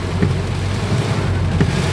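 Heavy rain pouring down on a roadside lined with parked motorcycles, a dense, loud and steady roar with a low rumble underneath and no voices.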